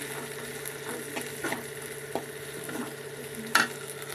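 Onions and tomatoes sizzling gently in a pan for pasta, a steady soft crackle with occasional scrapes and clinks of a utensil stirring, no one speaking.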